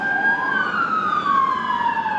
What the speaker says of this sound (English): Even these sirens.